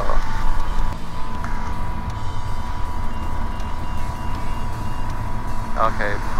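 A Bristell B23 Turbo light aircraft with a Rotax 915iS engine runs up for takeoff, its steady droning engine and propeller noise filling the cabin while a person talks over it.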